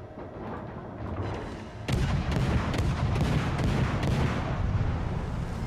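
Naval guns of a Tier 4 warship boom in World of Warships: Legends, a steady run of loud, heavy reports after a quieter opening, layered over constant battle rumble.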